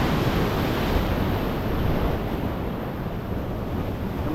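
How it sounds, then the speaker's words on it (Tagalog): Large ocean waves breaking near an island, a loud continuous roar of surf with heavy wind buffeting the microphone, steady throughout with no pauses. "Naging basagan ng alon dito sa isla."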